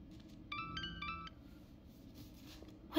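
A phone ringtone in the video game Tell Me Why plays a short, bright chiming melody twice in quick succession over a low ambient hum, fairly faint.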